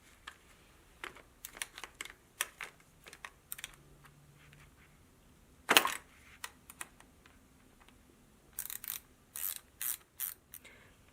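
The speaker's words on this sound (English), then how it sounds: "just use an 8mm wrench to remove the turn signals" Small clicks and ratcheting taps of an 8mm wrench loosening the stock turn signals on a Honda Monkey, a scattered series of quiet, close mechanical ticks with a sharp metallic snap midway and faster clicking bursts at the end.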